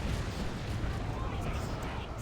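An artillery barrage in the Warhammer strategy game Dawn of War 2: Retribution, heard as a dense, continuous rumble of shelling with constant low booms that blend into a steady roar, while a commentator talks over it.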